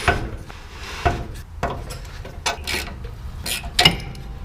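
A wrench works at stuck bolts on an 80 Series Land Cruiser during a load-sensing proportioning valve replacement, giving several sharp, irregular metallic clicks and scrapes up close, spaced about a second apart.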